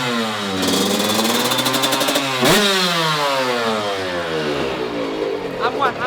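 A tuned Yamaha YZ 125 two-stroke motorcycle engine screams on a dynamometer run, revving up hard and then sweeping down and back up through the range, loud and close.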